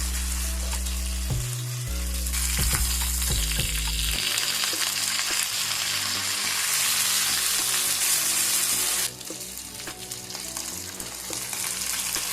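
Spiced fish frying in a pan gives off a steady, close, loud sizzle with stirring clatter, the hiss swelling and brightening midway before settling back down.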